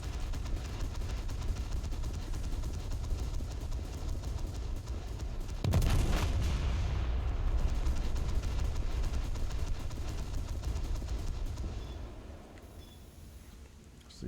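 Warship turret guns fire a broadside in a naval video game, a sudden loud boom at about six seconds that rolls on as a long heavy rumble before fading, over steady game noise.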